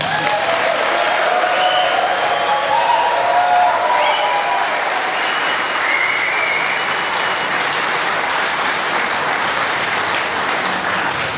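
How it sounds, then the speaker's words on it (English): A long, steady round of applause from the gathered crowd at a fire battalion chief's retirement ceremony, dense clapping at an even level for over ten seconds, with scattered whistles and cheers early on. "Can I get one more round of applause?"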